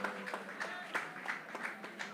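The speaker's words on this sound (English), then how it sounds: "Come on, teachers, give the national executive a round of applause." Teachers at the Grenada Union of Teachers annual conference clap for the national executive, a faint, thin scatter of individual hand claps in a quiet hall, distant and sparse, with murmuring voices beneath.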